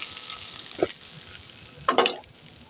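Fish frying in a pan of oil in a home kitchen, with a steady soft sizzle and two brief bursts of spatula scraping and clatter as the pieces are turned.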